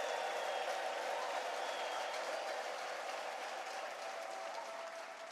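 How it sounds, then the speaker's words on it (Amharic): A church congregation applauds in a steady, distant wash of clapping, with a faint sustained high ululation woven through it, fairly quiet throughout. "እንደሆነለት የሚያምን ብቻ እልልታ፣ ጭብጨባ፣ ምስጋና ያመጣል።"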